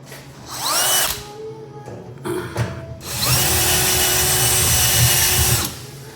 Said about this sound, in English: I get to use my new drill.